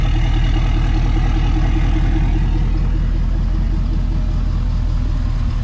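Tuned truck engine with a 5-inch to 6-inch exhaust tip idling close by, a steady deep low rumble with even pulsing and no talk over it.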